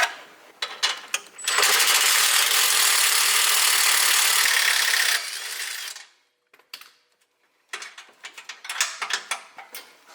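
An Allen head bolt being removed from the bumper of a Honda Pioneer UTV, with rapid ratcheting clicks, then a sustained loud whirring power-tool run, followed by more ratchet clicks and metallic rattles after a short pause.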